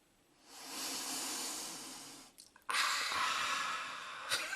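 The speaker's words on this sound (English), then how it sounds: "Sniff those tyres, dude." A man sniffs loudly and close at a car's soft rubber tyres, one long inhaling snort followed by a second stronger sniff, with a brief sharp breath near the end.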